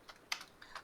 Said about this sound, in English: Here I am typing encapsulation.